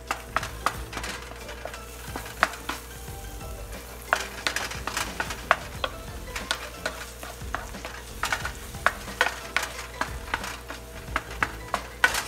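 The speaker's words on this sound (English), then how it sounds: "I'm going to add black pepper. And I'm gonna stir it." Scrambled spinach eggs with black pepper being stirred in a pan, with frequent scraping and tapping of a utensil over a low, continuous sizzle, close up and without talk.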